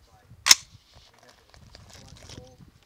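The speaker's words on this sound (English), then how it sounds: "this is M855 green tip penetrator ammo, 62 grain out of a 16 inch barrel" A single sharp, loud rifle shot of M855 green-tip 62-grain penetrator ammunition fired from a 16-inch barrel cracks once near the start, followed by faint handling noise and low background sounds.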